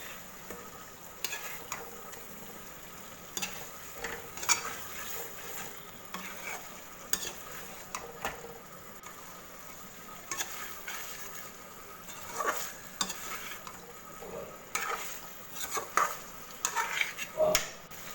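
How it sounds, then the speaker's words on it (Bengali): Fried chicken legs being sautéed in thick masala for chicken masala fry, with steady close sizzling and repeated scraping stirs of a spatula against the pan, no talking. "লেগগুলোকে দিয়ে খুব ভালোভাবে কষিয়ে নেব।"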